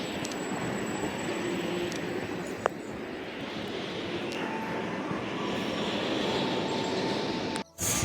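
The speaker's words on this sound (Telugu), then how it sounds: "గైస్ ట్రైన్ వెళ్తుంది." A train passes by outdoors as a steady, broad rumble and rush that holds loud for the whole stretch, with one brief sharp knock partway and a short dip near the end.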